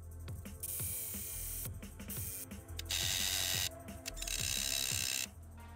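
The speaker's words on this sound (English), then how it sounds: "I'll be putting two screws at each corner" A power driver runs screws into the corners of a wooden frame, giving repeated whirring and ratcheting bursts with short pauses between screws, loud and close, with no voices.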